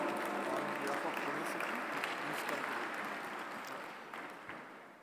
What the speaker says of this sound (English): Please give a round of applause for welcoming Dr. Sanjay Kolte ji, CEO of Smart City Pune.